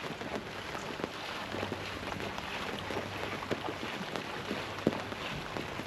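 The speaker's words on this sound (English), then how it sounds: "It has absolutely bucketed down and there was no warning that it was even going to rain." Heavy rain pours down on a Port Broughton morning, a dense, steady hiss with scattered louder drops striking nearby surfaces and a low rumble underneath, constant throughout with no voices.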